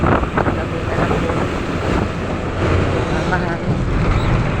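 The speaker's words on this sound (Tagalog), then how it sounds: "mahangin." Strong wind buffets the microphone with a constant roar, and water and waves wash faintly underneath.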